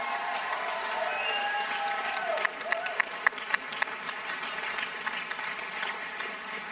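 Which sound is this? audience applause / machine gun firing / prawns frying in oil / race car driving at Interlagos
audience applause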